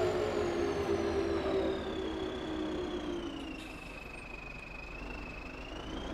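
Tractor engine running in Farming Simulator 22, a steady mid-pitched hum with a whining tone that drifts down in pitch, fairly quiet and continuous, no talk.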